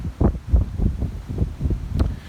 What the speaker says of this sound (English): it's going to be a little windy here, so you'll have to bear with any wind noise in the mic